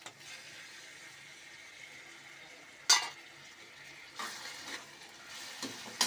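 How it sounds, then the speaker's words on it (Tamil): Onions and tomatoes are stirred in a cooking pan, with a low background sizzle broken by a few sharp utensil scrapes and knocks against the pan, one loud clack near the middle and softer ones toward the end. "இப்போ கொஞ்சம் கிளறணும்."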